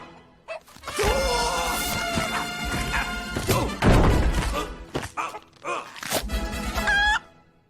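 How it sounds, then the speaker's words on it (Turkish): An animated film's chicken squawks and clucks amid loud scuffling, thuds and crashes inside a restaurant, with the flapping commotion rising and falling close by. "Ah! bir tavuk."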